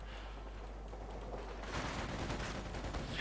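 Gunfire from Panzer Grenadiers attacking conscripts caught in the open in Company of Heroes 2, a steady crackle of rifle and machine-gun fire that grows louder and denser partway through, with no talk.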